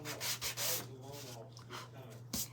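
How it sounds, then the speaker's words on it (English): Worn sandpaper sands over paint in short, close, rasping strokes that repeat steadily and softly, with a low hum underneath. "So I'm gonna try to sand this a little bit"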